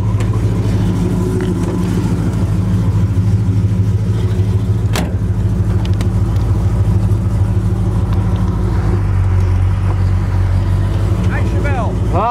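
A 1966 Chevelle convertible with a 396 engine rated at 375 hp cruises on a drive. Its loud, close engine drone holds steady throughout, with a faint voice underneath.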